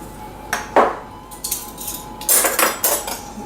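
Dry ingredients including baking soda and salt being stirred in a bowl, with a utensil scraping and clinking against the sides in several short bursts, close up with no talking.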